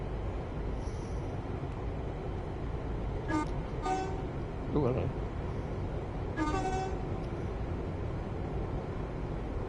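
Train horn toots in Train Sim World 5, a few short blasts over steady rumbling ambience as a train arrives, with a brief spoken greeting nearby.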